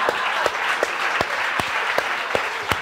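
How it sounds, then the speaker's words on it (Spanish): An audience applauds steadily throughout at a live show, a dense, loud patter of many hands with a few sharper claps standing out at regular intervals. "Un aplauso para la gente de Twitter."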